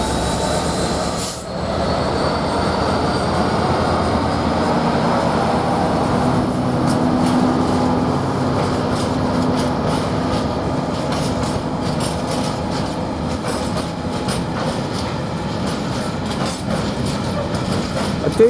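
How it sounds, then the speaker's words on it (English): Freightliner Class 66 freight locomotive 66607 rolls past Ely station, a sustained loud rumble of engine and wagons with wheel squeal and rhythmic clatter of the cars continuing steadily throughout, no voices. "This is the Freightliner, and it's the 66. Sheds 66607."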